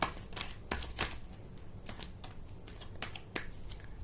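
Tarot cards are shuffled and drawn: a series of soft, crisp flicks and slaps at uneven intervals, close and quiet, with no talk.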